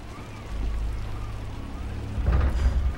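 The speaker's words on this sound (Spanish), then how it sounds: "No ha parado de llover en 3 días." Steady rain falling in a city after three days of nonstop downpour, a broad low rushing wash that thickens and grows louder near the end, with no voices over it.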